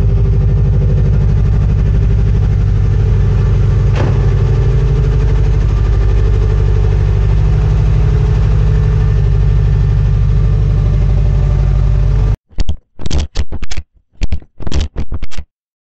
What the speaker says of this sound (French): on se retrouve dans la Xantia. Et pour le plaisir je vous la démarre.